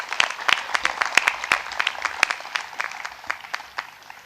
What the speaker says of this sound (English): So I think you should give yourselves a big round of applause.